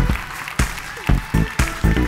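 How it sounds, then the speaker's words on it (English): Audience applause at an award show in Berlin, heard as a series of sharp, irregular bursts of clapping from a crowd, fairly close and lively, with little talk. "Round of applause again for Renate"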